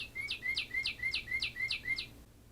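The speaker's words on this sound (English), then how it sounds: "Let's see what sound the cardinal makes." A northern cardinal sings a run of about eight quick, evenly spaced whistled notes in a rhythmic series, clear and close, then stops.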